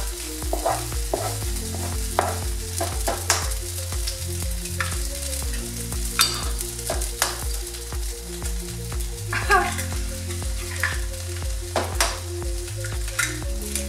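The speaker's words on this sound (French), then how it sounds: "on est toujours à feu vif et on va venir casser les œufs pour faire une sorte d'omelette" Steady sizzling of eggs cracked into a hot pan over high heat for fried rice, with frequent stirring scrapes and clatters throughout.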